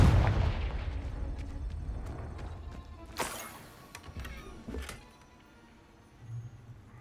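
Confringo fire spell in the video game Hogwarts Legacy: a loud rumbling blast at the start that rolls off into a long decaying boom, followed by a few sharper crackling pops and a softer thump near the end.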